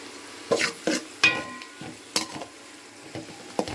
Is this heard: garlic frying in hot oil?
yes